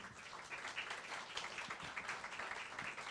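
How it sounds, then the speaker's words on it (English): Faint, distant applause from an audience at an education awards celebration, a soft continuous patter of many hands heard from far back. "How about a round of applause for Winnie?"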